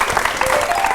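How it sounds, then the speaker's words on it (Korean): Brief burst of dense crowd applause at a museum career-experience talk featuring an interpreter, many hands clapping together loudly and continuously for about a second. "여러분 박수 주세요."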